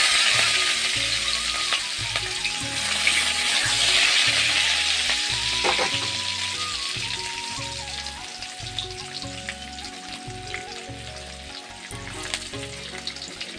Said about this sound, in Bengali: রসুন আর শুকনো লঙ্কাটা অল্প ভাজা ভাজা হলে শাকটা দিয়ে দেব